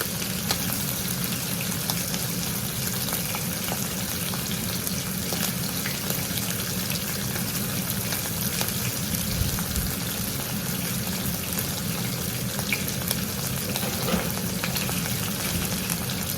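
A pork chop frying in a pan over high heat gives a continuous loud sizzle and crackle with small spits and pops, steady and close for the whole stretch, with no talking.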